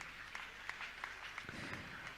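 An audience at a Hindi religious discourse gathering claps steadily, a faint, distant wash of applause with scattered louder claps throughout.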